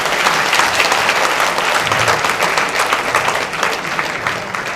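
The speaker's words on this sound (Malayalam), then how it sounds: "ഇനി കൈയടി പോരാ." An audience claps continuously and densely, loud and close, a steady wash of applause with no break.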